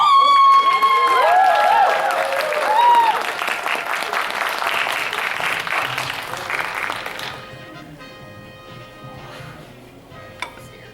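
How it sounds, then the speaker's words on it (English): Audience applause with cheering at a furry convention game show event, loud and dense at first, then thinning and fading to a few scattered claps near the end, with crowd voices mixed in. "Round of applause for..."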